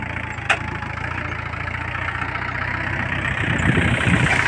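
An old tractor engine idles nearby with a steady, low chugging rumble that swells slightly toward the end, with a single brief click near the start and no speech.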